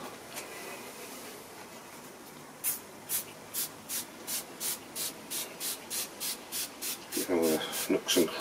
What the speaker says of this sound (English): Let's put a liberal coating and wipe off.